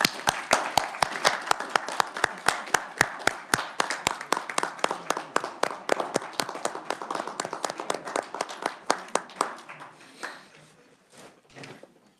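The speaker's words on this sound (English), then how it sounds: "let's give them a round of applause" At a state house committee hearing on education budget, an audience claps steadily for several seconds, the sharp hand claps thinning out and trailing off into a few last scattered claps.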